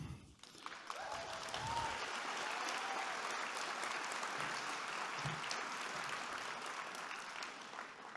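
Audience applause for political candidates at a leadership showcase speaker event, a continuous, fairly distant and quiet roll of many hands clapping for several seconds.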